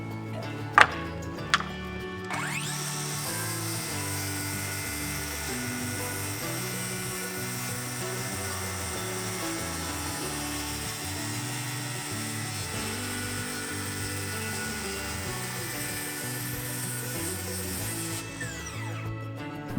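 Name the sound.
power tool trimming tops of cedar fence pickets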